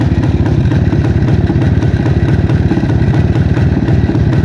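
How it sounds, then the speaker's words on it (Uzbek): IZH Planeta motorcycle engine idling steadily up close, a loud, continuous low rumble with rapid even firing pulses and mechanical clatter throughout, no voices. "Motorlarni eshitib ko'ring aka."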